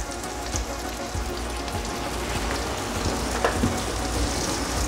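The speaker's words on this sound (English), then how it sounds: "We're not deep frying it, but we are giving it the oil that it needs" Cornmeal mush fries in olive oil in a nonstick skillet, making a dense, even sizzle like rain on a surface, close and steady, with faint scattered crackles throughout.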